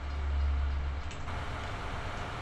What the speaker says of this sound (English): Oh, train.